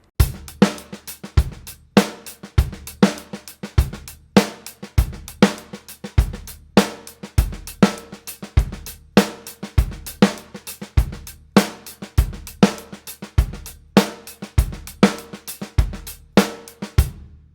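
A steady drum kit groove with punchy kick and snare hits repeating in a regular pattern, softer snare ghost notes filling the gaps, close and loud.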